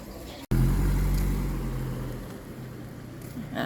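A 2015 Subaru Forester 2.0 petrol engine revs as the accelerator is pressed, a sudden rise into a loud low rumble that slowly eases off, heard up close without talk.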